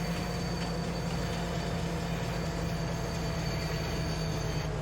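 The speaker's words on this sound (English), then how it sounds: "So we're going to drive the train up to the train silo field point" A train driven in the video game Farming Simulator 22, a steady low engine rumble with a constant droning hum, unbroken and moderately loud throughout, with no voices.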